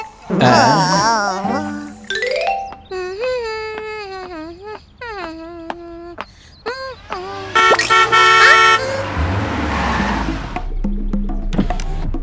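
A car horn honks at a child standing in the road in an animated cartoon street scene, the blasts mixed with loud wailing, crying voices and other tonal sounds.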